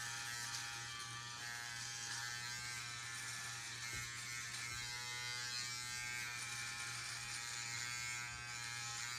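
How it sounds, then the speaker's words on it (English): An electric shaver trimming a beard buzzes steadily and continuously at close range, a constant high-pitched electric hum with no voices. "you can go and hit it with a shaver"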